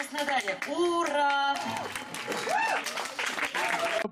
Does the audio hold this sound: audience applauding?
yes